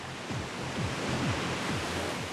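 Ocean surf crashing at Bondi Beach, a soft wash of broadband surging water with repeated low thumps of breaking waves, fairly faint and steady with no voices.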